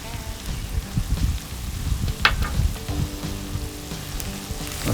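Three cloves of garlic sizzle steadily in hot oil with cumin for an international-style chili, a continuous crackling fry with a brief sharper hiss midway.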